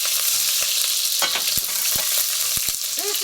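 Pearl onions sizzle loudly in olive oil over high heat, with a steady frying hiss and a few sharp knocks of stirring against the pan.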